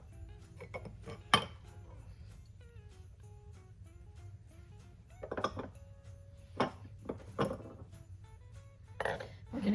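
Flour, ginger, cinnamon, clove, nutmeg and salt get mixed in a dish, heard as scattered light clinks and scrapes of a utensil against it with quiet pauses between, close by and without speech.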